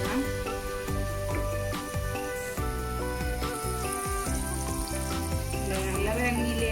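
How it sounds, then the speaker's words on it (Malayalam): Avocado bajji frying in hot oil with a dense, bubbling crackle throughout, close and fairly quiet, with a few light clinks and stirs as pieces are turned. "ഇനി നമുക്ക് മറിച്ചിട്ടിട്ട് അടുത്ത സൈഡ് ഒന്ന് ഫ്രൈ ചെയ്തെടുക്കണം."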